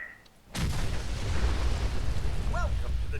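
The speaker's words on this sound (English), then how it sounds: "It's gonna cause a large explosion now." A large explosion in the video game Fallout 4 erupts suddenly after a quiet moment, then rumbles on as a loud, sustained roar of debris and low thunder, with a faint electronic chirp near the end.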